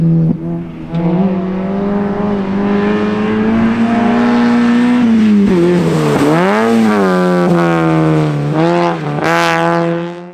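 A race car spins off at Shackleton circuit, its engine revving loud and close in a long sweeping whine that dips, climbs and wavers while tires squeal. The sound ends in a final surge.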